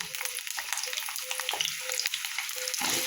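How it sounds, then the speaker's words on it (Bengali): Potatoes fry in hot oil in a kadai, giving a steady crackling sizzle with scattered pops and faint stirring clinks throughout, close and alone. "কড়াইয়ে আমি তেল গরম করতে দিয়েছি। দিয়ে এখন আমি এর মধ্যে দিয়ে দেবো আলু"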